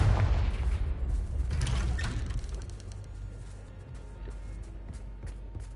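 Confringo blasting spell in Hogwarts Legacy, a loud booming explosion up front followed by crackling bursts and rumbling aftershocks that gradually fade.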